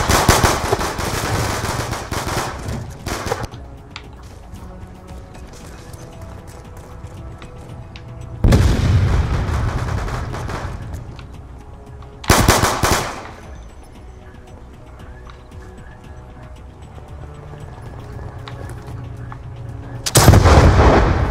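Call of Duty Black Ops 2 gunfire: heavy bursts of shots and booming blasts break out in loud clusters, with quieter stretches of distant rattling between them.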